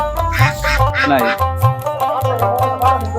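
Several domestic ducks quack repeatedly in quick, overlapping calls at a riverside village market, close by and loud, with no talking.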